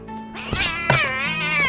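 A cat meows in a drawn-out, wavering call, close and clear, with a short break midway before the cry continues.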